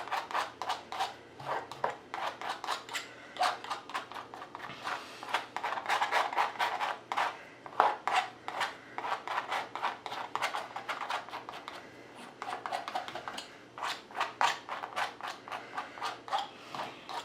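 A palette knife spreading paint across a canvas, producing rapid repeated scraping strokes in uneven bursts, close and moderately quiet, with brief pauses between passes.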